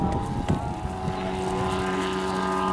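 A model aircraft engine holds a loud, steady droning buzz with a tonal whine at an aeromodelling meeting in Conches-en-Ouche, 2012, heard close and alone without talk.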